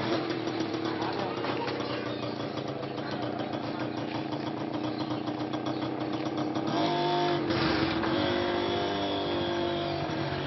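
Motor vehicle engine running steadily at idle throughout, mid-pitched and fairly quiet, with a brief rise in its note near the end and voices talking over it.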